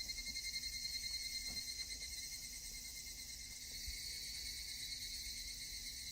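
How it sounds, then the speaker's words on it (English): Cicadas or locusts drone continuously in the Higurashi When They Cry title screen, a dense, even high-pitched chirring buzz that holds steady throughout with no other sounds. "or cicadas, or something of that type, as we sure got a lot of that in the title screen"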